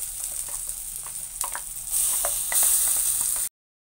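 Ground jackfruit paste goes into a pan of frying cashews, sizzling steadily and growing louder as it is stirred, with occasional scraping sounds nearby, then cutting off abruptly.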